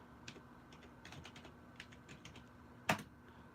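Keys tapped on an old Dell Dimension XPS T500 computer keyboard, a scattered run of light clicks with one sharper, louder keystroke near the end, faint and close against a steady hum.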